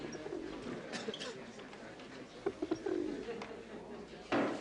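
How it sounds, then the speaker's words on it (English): A pigeon coos from under a man's coat indoors, soft bursty calls repeating through the clip while people talk and murmur close by. "It's a pigeon."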